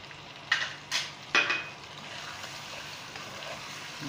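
Frying in oil seasoned with salt and black pepper, for a chicken spaghetti sauce: a few sharp bursts of spattering early on, then a quieter, even background sizzle.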